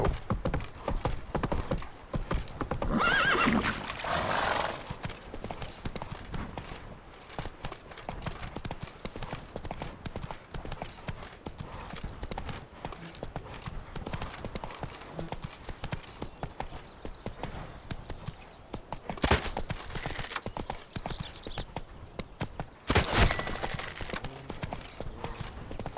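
Roach, a horse in The Witcher 3 video game, gallops with a continuous rapid clip-clop of hooves, a whinny early on and a couple of louder bursts later, over game ambience.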